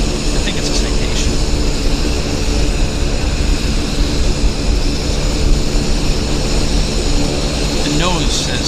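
A Cessna Citation business jet taxis at Vancouver airport, a steady broadband engine roar that stays loud and even throughout, with a voice talking briefly over it.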